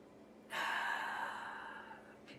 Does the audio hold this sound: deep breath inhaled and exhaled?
yes